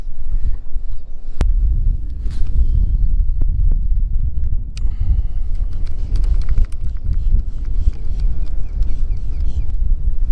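Gusting wind buffeting the microphone outdoors while fishing at an evening bite, a constant low rumble with occasional knocks and clicks of gear; no talk.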